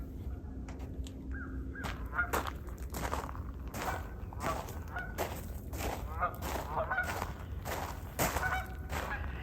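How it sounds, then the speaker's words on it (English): Several geese honk repeatedly nearby, their calls overlapping in uneven bursts, with rustling and footsteps in the background. "all the geese are in front of our house today"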